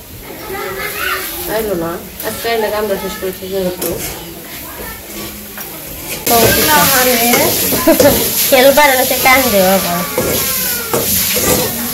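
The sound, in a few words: frying banana plant pieces in a pan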